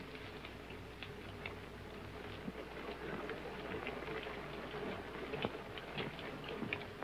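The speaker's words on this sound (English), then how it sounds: "It's only the rain." Steady, soft rain patters continuously with scattered drips and ticks, an even wash of sound with no voices.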